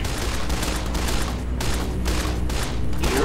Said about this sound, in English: for close range suppression and crowd control, we have this handy dandy 9mm submachine gun